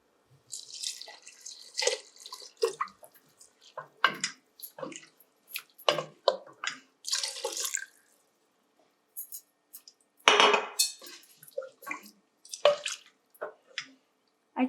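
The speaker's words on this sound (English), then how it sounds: "I'll add the water." Water being poured into a pot of urad dal (mash ki dal) mixed with cilantro, heard as a series of short splashing and dripping bursts with quiet gaps, and one louder pour near the end.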